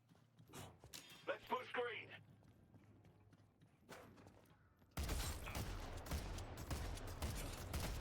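Rapid bursts of gunfire from a video game weapon, loud and dense, come in after a stretch of quieter game sounds and a voice, then keep going steadily to the end.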